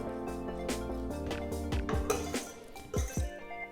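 A spoon clinks and scrapes against a bowl while salt, mint and black pepper are stirred into rice, giving a quick run of bright metallic taps and soft scraping sounds, close up and without talk.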